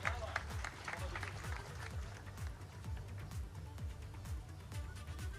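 An audience applauds at a public event honouring elderly people, a dense burst of clapping from a crowd with a voice over it.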